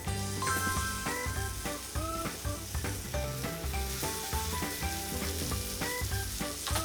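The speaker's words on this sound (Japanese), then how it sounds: "そしたら皮目から入れていきます。" Chicken pieces go skin-side down into a hot frying pan, crackling and sizzling loudly and continuously with bright spitting pops, while music plays along underneath.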